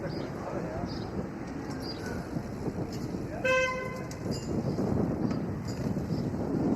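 In Toronto street traffic, heard from a bicycle, a short car horn honk sounds once, clear above steady traffic and wind noise, with a brief harmonic blare in the middle.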